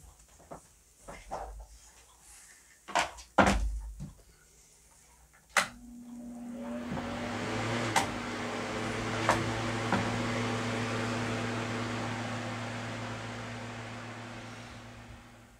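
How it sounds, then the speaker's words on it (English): A desk fan switches on after a few scattered clicks and handling knocks, then blows with a steady whooshing hum while air-drying a Gelli-print collage. "Now I'm going to air dry this with the desk fan"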